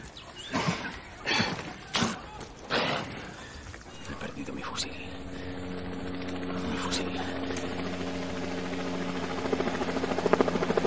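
Helicopter landing, heard as a rising steady rotor and turbine drone that grows louder toward the end, preceded by several heavy rhythmic thumps and some voices at the start.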